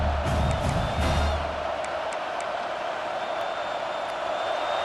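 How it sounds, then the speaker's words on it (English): A football stadium crowd roars in a dense, sustained wall of cheering and whooping, loud and continuous throughout, with no single voice standing out. "These fans are going absolutely nuts."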